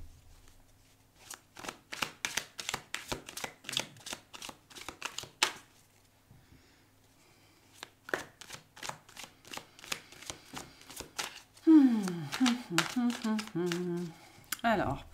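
Tarot cards riffled and shuffled for a weekly reading, with quick rapid bursts of crisp card flicks separated by pauses, close and clear, ending with someone talking over the final shuffle.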